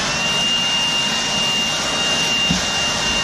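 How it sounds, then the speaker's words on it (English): A straight-back-fan blower runs steadily and loudly close by, a continuous broadband whoosh with a constant whine, briefly bumped by a low thud near the end. "great blower."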